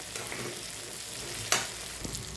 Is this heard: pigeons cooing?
no